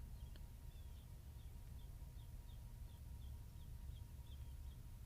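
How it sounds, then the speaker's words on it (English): Faint, repeated high bird chirps sound at a distance over a low, steady background rumble. "Like I'm hearing the bird chirping right now."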